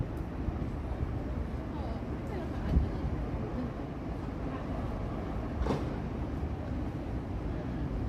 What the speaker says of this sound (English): New electric high-speed train.